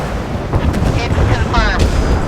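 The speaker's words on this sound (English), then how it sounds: "Missile launched at target." Missile launch and explosion in the naval warship game Force of Warships: a dense, rumbling boom with crackling bursts across the whole stretch, loud and continuous, with radio-style voice chatter mixed in underneath.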